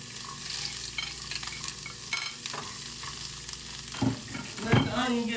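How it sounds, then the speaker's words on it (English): Onion frying in a pan with a steady sizzle, joined by repeated stirring and scraping strokes that grow louder toward the end, close by with no speech. "I'm finna go ahead and add the onion on there real quick"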